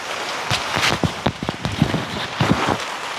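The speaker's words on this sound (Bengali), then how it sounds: "বৃষ্টি চলে এসেছে।" Rain falls on a rainy night during traditional fishing, a loose spatter of heavy drops striking nearby surfaces. The irregular pattering is close and uneven, with no talk.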